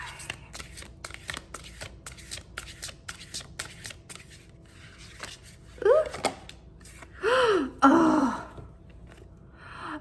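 Oracle cards are shuffled by hand in repeated crisp riffling bursts, close and moderately loud, with a voice briefly vocalizing between shuffles.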